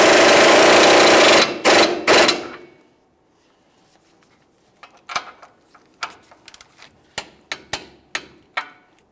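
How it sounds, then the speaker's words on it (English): Lower ball joint nut on a 1999-2006 Chevrolet Silverado 1500 being tightened with a 24mm socket: a loud burst of impact-wrench rattling stops, then comes a steady series of sharp ratchet clicks. "We'll be using our 24mm, snug this up, and torque it to 74 foot-pounds."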